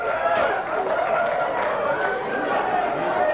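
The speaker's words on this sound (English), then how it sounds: "this is a New York crowd" Dense New York crowd chatter fills a hotel ballroom at the Waldorf Astoria during the 1985 NBA Draft, a steady, loud wash of overlapping voices with no single speaker standing out.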